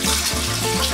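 Water pours into a new SpongeBob-themed fish tank in a brief, continuous, close gushing splash with no voices.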